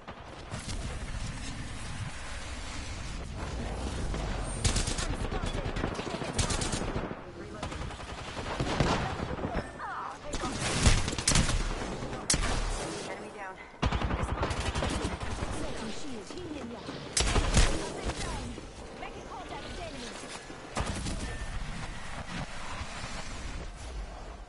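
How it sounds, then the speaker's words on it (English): Gunfire rings out in a video game, with rapid bursts and single sharp shots at irregular intervals over a steady windy background. "They spotted me. I'm taking shots."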